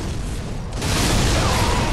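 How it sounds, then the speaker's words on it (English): A sudden explosion in the video game Dark Souls 3 erupts into a loud, sustained broadband roar, continuing to the end after a quieter rumbling lead-in. "Insta-kill because of an explosion."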